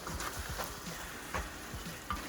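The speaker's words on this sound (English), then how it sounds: "Stir it up." Baby portobello mushrooms stirred in a hot frying pan, a soft steady sizzle with a few light scraping strokes of the spoon, quiet and close, no voices.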